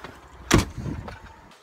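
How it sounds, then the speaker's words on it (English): A door swings shut indoors at home with one sharp, fairly close thud, followed by faint rustling and handling noise. "Oh, didn't shut the door."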